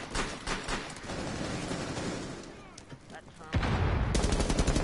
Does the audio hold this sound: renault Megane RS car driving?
no